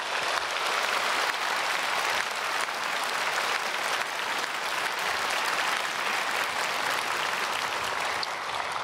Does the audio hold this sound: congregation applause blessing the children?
yes